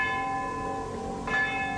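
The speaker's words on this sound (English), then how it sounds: "And then there's this bell." A castle bell rings with a sustained, shimmering metallic tone that hangs in the air, and a fresh strike comes near the end of the short stretch.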